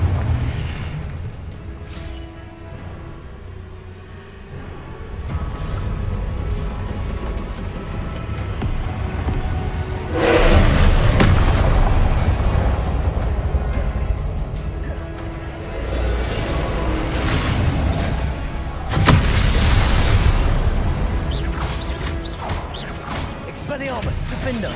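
Confringo fire spells blasting in Hogwarts Legacy combat: repeated booming explosions and crashing bursts swell and fade across the scene, loud and close, with a voice talking over the action.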